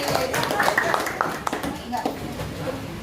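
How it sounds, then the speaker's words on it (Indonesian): Pupils in a classroom clap their hands together in a short burst, close and lively, with a teacher's voice talking over and after the clapping. "Tepuk tangan sekali lagi."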